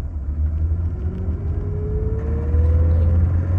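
A car engine or transmission with a puzzling fault drives in first gear, a steady low rumble with a faint rising whine climbing slowly as the vehicle gathers speed, close and continuous with no talking.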